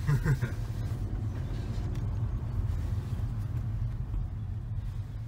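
A warm PSA car's engine drones steadily while driving, a low continuous rumble filling the cabin, loud and unbroken throughout.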